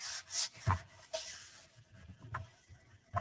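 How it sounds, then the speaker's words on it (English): Painted, hand-drawn wooden lazy susan surface being scuffed with abrasive, a few quick soft rubbing strokes close to the mic, quiet and irregular. "So I'm just gonna scuff it really quick."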